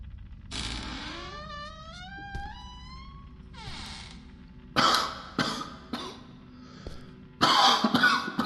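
Harsh, wet coughs in a horror game come in quick bursts, loud and close, between stretches of creaky, eerie ambient tones.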